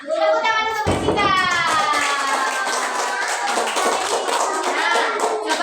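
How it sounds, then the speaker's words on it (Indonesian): A classroom of children claps for a classmate, a loud, dense burst of many small hands clapping that starts abruptly and keeps going for several seconds, with a voice speaking briefly just before it. "Tepuk tangan untuk Mbak Cika."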